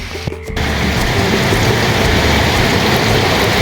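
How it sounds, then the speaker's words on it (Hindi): The year's first rain falls steadily outside a village house, a dense, even hiss of drops on surfaces that starts abruptly and stays loud and close throughout. "बाहर बारिश हो रहा है।"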